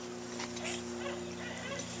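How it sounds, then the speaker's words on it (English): Barred owl calling from a swamp during a summer walking tour, a fairly steady barking hoot that sounds doglike, with steady hum and background noise throughout. "This is a barred owl."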